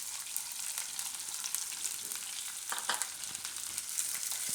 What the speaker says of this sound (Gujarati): તો આમાં આપણે હવે ડુંગળી નાખી દઈશું.